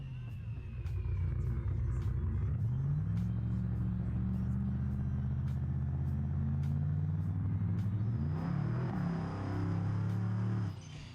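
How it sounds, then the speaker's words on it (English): Turbos spooling up on a tuned F-Body drag car in BeamNG, a loud sustained engine drone with rising whine and rumble that climbs in pitch and surges again near the end before cutting off. "Them turbos sound good, spooling up."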